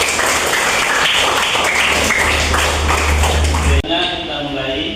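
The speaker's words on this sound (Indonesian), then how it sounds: "Tepuk tangan untuk diri kita sendiri." A classroom of students applauding themselves, loud sustained clapping mixed with chatter that cuts off abruptly, leaving murmuring voices.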